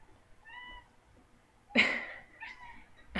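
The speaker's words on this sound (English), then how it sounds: "my cat is meowing" A cat meows faintly once, then gives a louder, drawn-out meow followed by another short one, close by in an otherwise quiet room.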